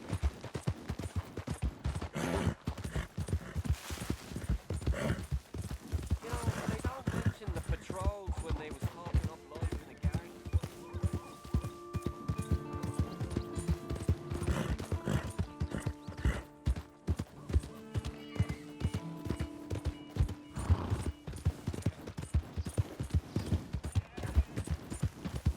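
Horse hooves gallop with a steady, rapid clip-clop in the Western video game Red Dead Redemption 2, with occasional whinnies. Game music and a voice run beneath the hoofbeats.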